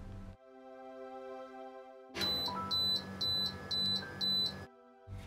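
Microwave timer beeping after a coffee-mug chocolate cake finishes cooking, five short, evenly spaced high beeps over the appliance's steady running hum, then the hum stops.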